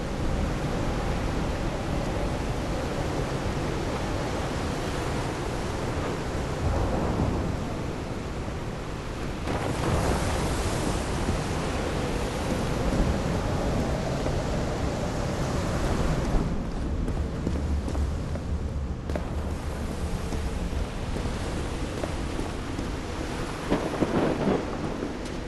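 A thunderstorm in the video game Call of the Sea: heavy rain and surf-like wash with rolling thunder rumbling through, loud and continuous for about 25 seconds with no speech.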